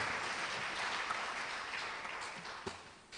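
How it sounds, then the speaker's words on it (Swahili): Sustained applause from a crowd at a South Africa–Tanzania cultural season event, a dense, even wash of clapping that holds steady for a few seconds before tapering slightly at the end, with no speech over it. "Pigeni makofi mengi sana kwa utamaduni wetu."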